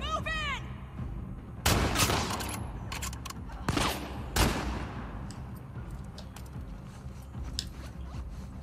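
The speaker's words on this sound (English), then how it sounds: "Is that person up top shooting at me?" Gunfire in The Last of Us Part II: several loud, sharp broadband shots in separate bursts around the middle, with quieter scattered pops and a steady low rumble underneath.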